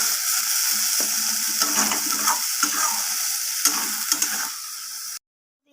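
Cauliflower leaves are stirred as they fry in a wok, making a constant sizzle with scraping, crackling bursts from the stirring. The sound cuts out abruptly just before the end.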